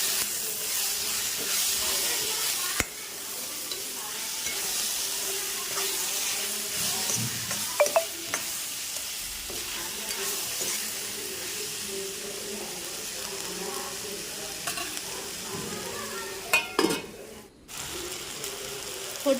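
Chopped tomato sizzling and frying in a pan for quail curry, a steady moderate hiss with scattered scraping and clicking as it is stirred, continuous for the whole stretch with no talk.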